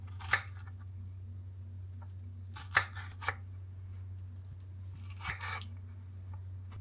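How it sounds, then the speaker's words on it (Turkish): Strawberries are cut with a knife in a few quiet, separate slicing crunches spread over several seconds against a constant low electrical hum. "yapraklar için çileklerimi de doğruyorum"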